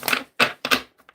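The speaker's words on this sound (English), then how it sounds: "This is just the pre-shuffle." Tarot cards are riffled in three quick bursts of papery shuffling, close and fairly loud, followed by a couple of faint taps, with no talking.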